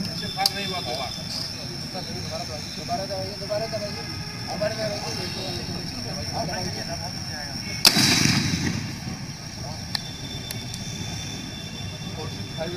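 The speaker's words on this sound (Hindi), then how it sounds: "अब ये टीएस से फायर करने जा रहे हैं।" A tear smoke gun fires once during a riot-control drill: a single sharp bang followed by a brief rumbling tail, set against steady background noise and voices.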